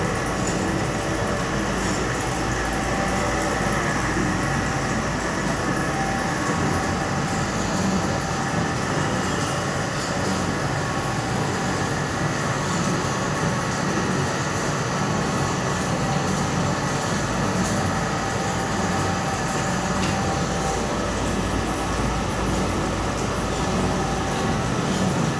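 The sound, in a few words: oil press extracting peanut oil and oilcake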